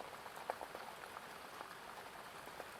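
Rain drums on the windows during a storm, a continuous close wash of fine patter with a few slightly sharper drops standing out, quiet and without any speech.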